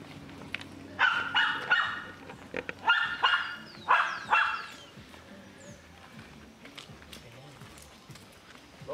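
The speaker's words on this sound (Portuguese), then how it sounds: "O Mel é uma pentelha que mora aqui em casa também, tá latindo aqui." A house dog barks during an obedience training session, giving several sharp, close barks in quick clusters over the first few seconds, with people talking nearby.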